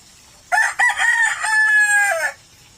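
A rooster crows once, loud and close, a drawn-out cock-a-doodle-doo lasting about two seconds before falling quiet.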